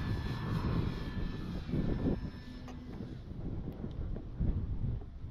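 A Dynam DHC Beaver RC model airplane's small propeller engine drones at a distance, its pitch rising and falling as it flies around, with some wind buffeting the microphone.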